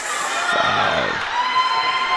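Crowd at a Christian school girls' basketball game cheering and whooping loudly, a dense close roar of voices with shouts rising across the short burst.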